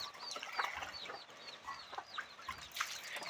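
Small flock of chickens and young chicks clucks and cheeps close by in short overlapping calls, moderately quiet and without talk.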